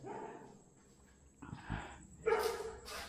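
A few faint dog barks and yips, distant and sporadic, over quiet background noise.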